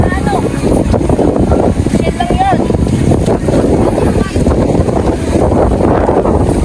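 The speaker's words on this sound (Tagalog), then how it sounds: "Yung lakas ng hangin." Strong wind buffets the microphone in a steady, loud roar at a beach resort in Sariaya, with water sounds and people talking underneath throughout.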